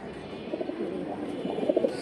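Pigeons coo steadily nearby, low burbling calls repeating in a soft continuous chorus, without any talking over them.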